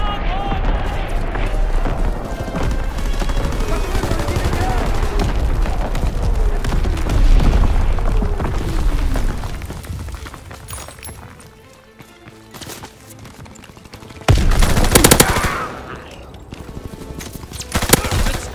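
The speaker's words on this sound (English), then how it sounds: "Firing primary battery." Naval primary battery shelling in Call of Duty WW2 rumbles as a sustained barrage of booms under a radio-style voice, fading before a loud heavy blast near the end.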